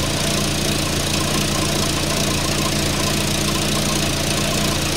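Volvo 480 engine idling with a leaking exhaust, a constant close rattling, ticking drone with a fast even pulse and broad hiss, no voices.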